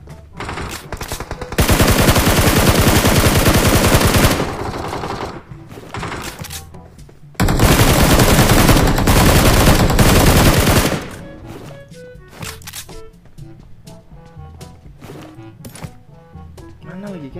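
Automatic gunfire in the mobile battle royale game PUBG Mobile, two long loud sustained bursts separated by quieter stretches of game sound and scattered shots.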